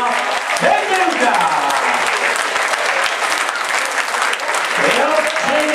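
Loud stadium applause from football supporters as a substitute leaves the pitch, dense sustained clapping with voices talking over it throughout.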